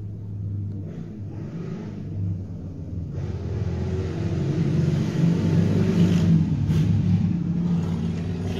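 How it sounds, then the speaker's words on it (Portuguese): Continuous low traffic rumble from cars and motorbikes passing on an avenue, with a couple of engines swelling louder as they go by; no voices, just road noise. "Direto passa carro aqui fazendo barulho, moto fazendo barulho."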